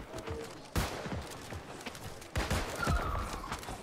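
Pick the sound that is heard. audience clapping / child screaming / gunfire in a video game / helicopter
gunfire in a video game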